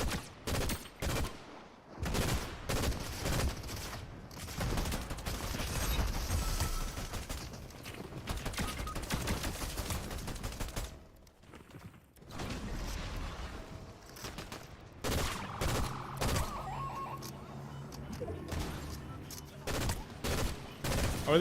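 Rapid bursts of video game gunfire from a shooter match with bots, dense volleys and single cracks rattling loudly almost throughout, with brief lulls in between.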